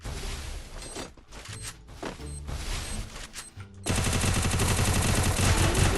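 Gunfire in the Free Fire video game crackles in scattered bursts, then turns into a dense, loud, continuous rattle of rapid shots with mechanical clatter.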